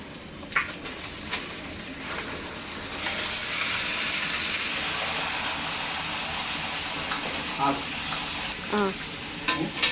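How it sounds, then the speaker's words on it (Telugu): Ginger-garlic paste masala fries hard in a large pan ahead of a big batch of chicken fry, a loud steady sizzle with occasional metallic stirring clanks toward the end. "పచ్చివాసన పోయేదాకా బాగా వేగాలి"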